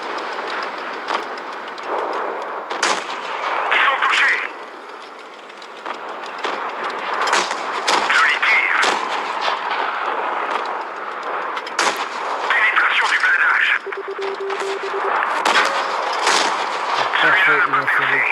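Tank cannon shots and a shell ricochet in the World of Tanks Blitz mobile game, with several sharp loud blasts at irregular intervals over a continuous rumbling engine and battle bed, joined by metallic clanks and brief tonal pings.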